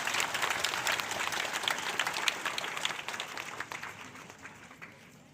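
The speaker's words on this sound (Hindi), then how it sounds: "एक बार जोरदार ताली कोपरा पंचायत पर" An outdoor crowd at a bird festival by the Kopra reservoir claps loudly for the Kopra panchayat. The dense applause holds steady, then thins and fades toward the end.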